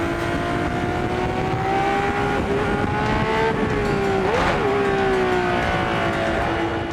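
A 1972 Ferrari 312 PB sports-prototype race car runs at the Spa Classic with a loud, sustained engine howl. The pitch holds steady, then dips and wavers briefly as it changes speed.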